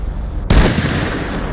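A single sharp sniper shot in a video game cracks out suddenly and loud, then trails off into a lingering rumbling echo.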